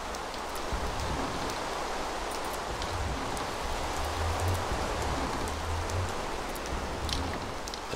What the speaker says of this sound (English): I don't think the rain is going to stop